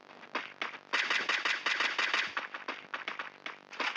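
Rapid bursts of gunfire from the Counter-Strike video game, a sniper shot among them, crack out close and loud in a dense volley of repeated shots with no talking.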